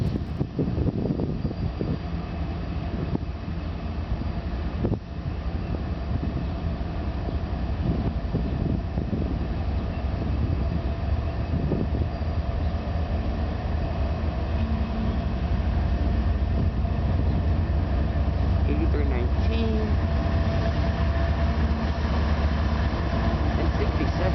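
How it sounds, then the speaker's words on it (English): A modern diesel locomotive passes an old steam engine at the Pueblo Railroad Museum, giving a loud, continuous engine rumble with a steady low drone throughout. "a modern diesel passing an old steam engine"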